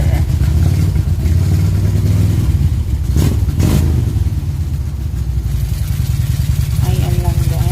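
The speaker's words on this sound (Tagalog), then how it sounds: "ibabalik na po yung bike sa trailer" A motorcycle's engine runs loud and steady, idling with occasional revs while the bike is moved back onto a trailer, with a brief surge in the middle; no one speaks.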